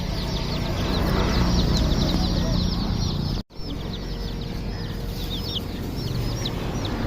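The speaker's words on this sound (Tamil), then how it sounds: "எங்கள் வீட்டுக்கு வந்த புது உறவு கோழி குஞ்சுகள்" Young chicks peeping in a dense high chorus with occasional clucks, close and loud and continuing after a brief dropout partway through, with no one speaking over them.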